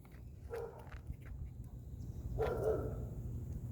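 Six-month-old puppy barking indoors, two short yelps about two seconds apart, moderately near over a low steady background rumble.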